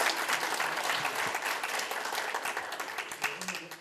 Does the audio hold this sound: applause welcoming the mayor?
yes